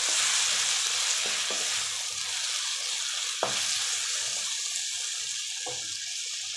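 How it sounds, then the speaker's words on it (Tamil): Chopped tomatoes salted and sautéing in a pan for a restaurant-style paneer butter masala hiss in a steady bright sizzle, with occasional spoon scrapes and taps, close and continuous with no talking. "நல்லா இந்த மாதிரி வதக்கணும்."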